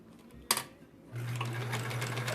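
Sewing machine stitching quilt block pieces together, a single sharp click, then the motor starts and hums steadily at close range, fairly quiet.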